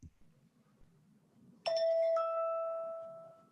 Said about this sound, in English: we put a chime. This is a chime that we do.